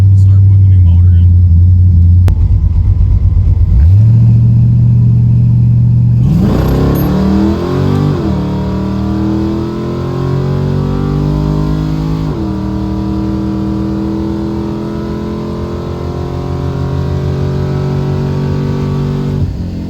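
A 305 small-block Chevy V8 in a Firebird running nitrous makes a drag strip pass: loud idle rumble, then a hard launch with rising engine revs and gear shifts, the engine roaring close and continuous throughout.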